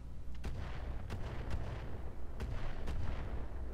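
Gunfire in the video game Roguetech, a mech combat game, with several booming shots spaced at irregular intervals over a constant loud rumbling background, with no voices.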